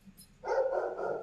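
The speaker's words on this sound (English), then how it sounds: "dogs barking in the background." Dogs bark in the background of a home, one sustained, fairly strong bark or whine rising after a quiet start and continuing to the end, with no talk.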